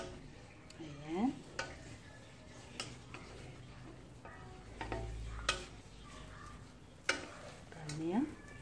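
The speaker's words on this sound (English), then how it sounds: "Ganyan ko mag-toasted bread with egg." Bread with egg and cheese fries in a pan with a soft, steady sizzle, broken by occasional clicks and scrapes of a utensil, while a voice speaks now and then.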